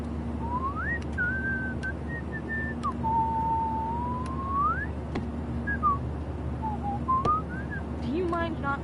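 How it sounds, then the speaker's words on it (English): Whistling in the video game Life is Strange, a person whistling a slow wandering tune of long sliding notes over a low steady hum, with occasional sharp clicks and brief talk at the end. "Do you mind not whistling?"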